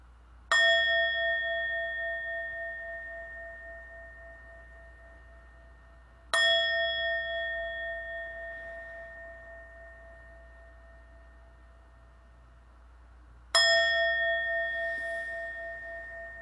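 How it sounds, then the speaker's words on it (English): A bell is struck three times at long, even intervals, each ring clear and resonant and fading slowly into quiet. "We are grateful for the sound of the bell"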